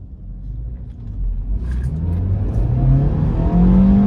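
Maruti Baleno car accelerating hard in first gear toward the redline during a top-speed run, the engine note climbing steadily in pitch and loudness, close and continuous.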